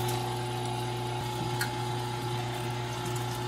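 A meat grinder churns beef brisket into sausage mince, a steady mechanical whir and hum running unbroken and fairly loud with no talking.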